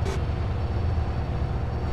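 A train pulls away in the multiplayer video game SA-MP (San Andreas Multiplayer), giving a steady low mechanical rumble that holds evenly throughout, fairly close and with no talking.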